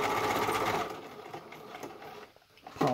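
A sewing machine stitches a buttonhole on a homemade bag, a fast rattling whir that slows and dips into a near pause before starting up again, close and clear with no talk.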